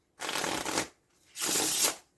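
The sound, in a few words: shuffling playing cards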